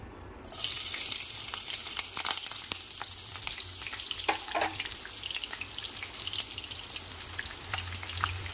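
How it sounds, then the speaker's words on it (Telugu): Chopped onions and green chillies dropped into hot oil, a sudden loud sizzle that then crackles steadily with scattered pops and spatter, close by and without speech. "కొంచెం బ్రౌన్ కలర్ వచ్చే వరకు వేయించుకోవాలండి ఆనియన్ని"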